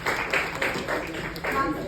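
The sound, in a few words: audience clapping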